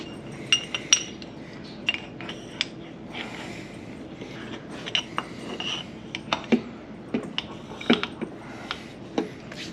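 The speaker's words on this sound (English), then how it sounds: "Set your pistons over here." Engine pistons being set down one after another on a workbench during an engine rebuild, giving scattered sharp metallic clinks and clanks over a low garage hum, close and moderately loud.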